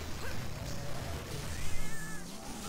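A cat companion in a Monster Hunter game meows a few times at moderate volume amid hunt noise and background game sounds, with a louder cry near the end.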